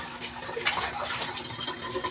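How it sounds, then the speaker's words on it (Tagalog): Moringa (malunggay) leaves being rinsed and swished in water, with a steady broad splashing and running-water wash lasting throughout at moderate loudness, no talk. "Kailangan yung malunggay, hugasin."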